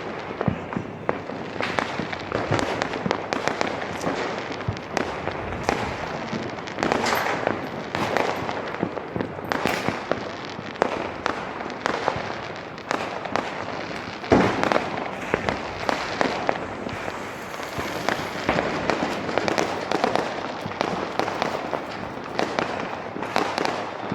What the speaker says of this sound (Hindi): फिर हम लोगों ने पटाखे जलाए, सबने मिलकर थोड़े बहुत पटाखे जलाए